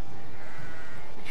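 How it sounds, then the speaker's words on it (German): Sheep bleat in the fantasy video game Magicka: a brief bleat rises over a steady layer of in-game ambient noise. "Das sind Schafe."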